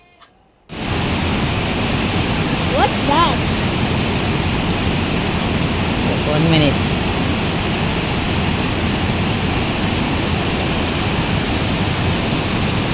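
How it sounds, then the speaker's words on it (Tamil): Cumberland Falls, a waterfall in Kentucky, roars as a loud, steady rush of water that starts abruptly and continues without a break, with a brief spoken word near the start. "கும்பர்லேண்ட் ஃபால்ஸ் அழகாக நீங்களும் பார்த்துருப்பீங்க அவ்வளோ அழகாக இருக்குது இந்த அருவி"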